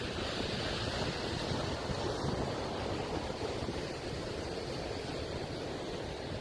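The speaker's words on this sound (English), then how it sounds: "you drive right by the ocean" Ocean waves on the West Coast beside Highway 101, heard as a constant broad roar of surf mixed with heavy wind buffeting the microphone, steady and fairly loud with no talk.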